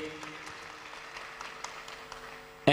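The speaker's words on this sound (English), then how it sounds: "A louder round of applause for our chairperson." Light, sparse applause from an audience at a university policing forum, honoring the chairperson, scattered claps under a faint background hum, ending in a sudden loud burst.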